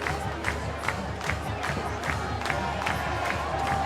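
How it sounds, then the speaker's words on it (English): A home crowd cheering at a high school football game, Hopkins vs. Armstrong, a broad sustained roar of many voices with scattered shouts, loud and continuous across the whole stretch. "So a nice home crowd getting excited for that one for Armstrong"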